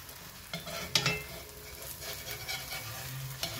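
Msemen flatbread cooks in a pan with a soft, continuous sizzle, broken by a few faint clicks and taps of a utensil.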